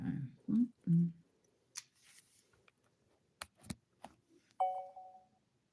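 Phone call tones while ringing a 5 Below store: after a few soft clicks and knocks, a clear electronic tone sounds near the end, close and moderately loud with no talking.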